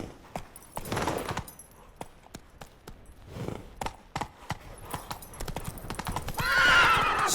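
Roach, Geralt's horse in The Witcher 3, gallops with crisp hoof clip-clops on hard ground, arriving in uneven bursts and quickening runs, then a neigh rings out near the end over a swelling background wash.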